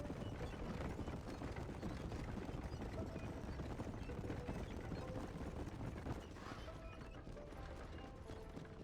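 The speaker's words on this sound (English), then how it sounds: "I never Tokyo drifted with a horse-drawn cart before." Horse-drawn cart in a Western video game, its hooves clip-clopping in a dense steady rhythm with rattling wheels, loud and continuous throughout, easing slightly near the end.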